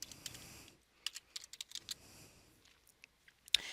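Login details are typed on a computer keyboard in irregular bursts of quiet, close key clicks separated by brief pauses, ending with one sharper keystroke.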